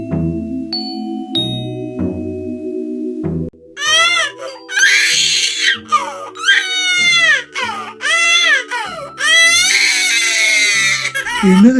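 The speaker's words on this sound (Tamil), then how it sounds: "ஏதோ ஒரு குழந்தை அழுகிற மாதிரி சத்தம் கேட்டுட்டே இருக்கு" A baby cries in loud, wailing bursts close by, with quieter whimpers and pauses between the sobs, no talking.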